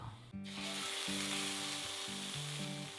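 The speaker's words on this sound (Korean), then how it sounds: "아보카도 오일과 참기름을 넣어 전복 내장을 볶아줬어요." Abalone innards stir-fry in avocado oil and sesame oil, a loud continuous sizzle that starts abruptly, with soft background music underneath.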